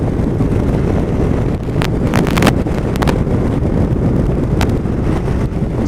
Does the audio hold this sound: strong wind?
yes